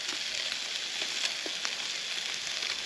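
Food sizzles and fries steadily on a portable camp cooking system outdoors, a close, even hiss with small pops scattered through it and no talking.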